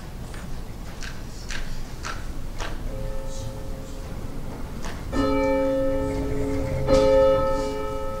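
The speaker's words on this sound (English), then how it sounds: "we'll have the ringing of the bell, followed by our opening hymn." A church bell rings before the opening hymn of a Sunday service, its struck tones sounding clearly and ringing on with long overtones, the second half louder, over a soft room murmur.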